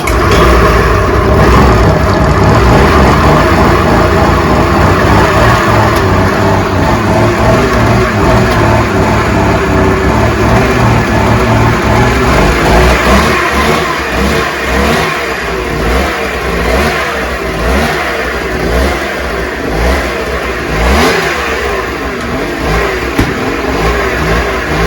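A 1995 Ski-Doo Formula 3 snowmobile engine runs loud and close, revving repeatedly in uneven bursts that rise and fall over a rough, sputtering idle.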